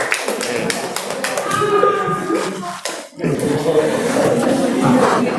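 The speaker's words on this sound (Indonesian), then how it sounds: "Beri tepuk tangan untuk Safi dan Rafika." Students clap their hands in a classroom. The short, uneven claps sound close and mix with overlapping voices and room chatter.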